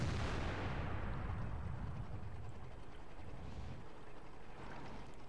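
A World of Tanks cannon shot booms at the start and rolls off into a long, low rumbling decay, leaving a steady muffled battlefield roar beneath it.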